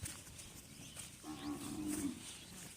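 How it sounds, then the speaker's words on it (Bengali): A cow lows once, a drawn-out moo rising out of quiet background murmur, fairly faint, at a large cattle market on a Padma river char near the Bangladesh–India border. "দেখেন খুবই সুন্দর সুন্দর আর কি গরু"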